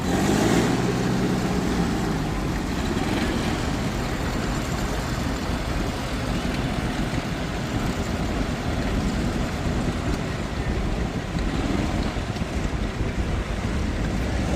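A 1965 Deutz D65 vintage tractor runs its engine at an outdoor machinery show. The rumble is steady and broadband, heavily buffeted by wind noise on the microphone, and no one speaks.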